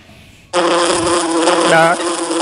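A loud, close buzzing of a bee from a mobile video game starts suddenly and drones on steadily, its pitch wavering slightly, with faint background sound before it.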